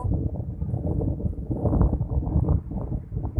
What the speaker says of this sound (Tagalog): Ang lakas-lakas ng hangin dito.